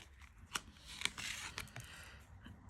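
A new tarot deck is being shuffled by hand, giving faint, close, crisp riffles and soft snapping card clicks at an uneven pace.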